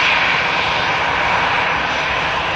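A Saudia Boeing 787 Dreamliner arriving from Jeddah at Manchester Airport on its downwind leg gives a steady, loud jet engine roar that holds evenly throughout.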